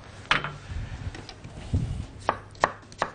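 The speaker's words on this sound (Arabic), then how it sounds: "فاول حاجه ببدا ان انا اقطع البصل بتاعنا المفروم" A knife chops onions on a board nearby: a run of soft irregular cuts, then three crisp, evenly spaced chops near the end.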